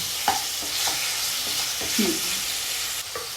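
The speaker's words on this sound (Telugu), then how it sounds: "రొయ్యలు ఫ్రై చేసుకుంది" Prawns frying in oil crackle and sizzle in a continuous close hiss, broken by a few scraping stirs of a utensil against the pan.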